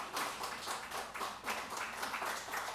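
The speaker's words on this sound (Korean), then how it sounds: "자, 박수 한번 하겠습니다." A church congregation clapping together during a worship service: soft, fairly quiet applause with a loose rhythmic pulse, steady from start to finish.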